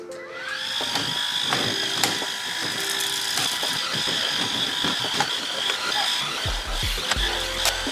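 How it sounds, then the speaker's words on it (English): Steady droning hum of a vacuum cleaner working over a couch, close and continuous with a constant whine, shifting slightly in tone as the nozzle moves across the cushions. "Start by vacuuming your couch."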